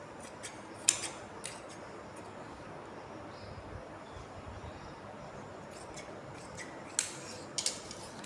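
Scissors cutting fabric for a salwar, a few faint snips heard close by against a quiet room hum, with the cuts clustered near the start and the end.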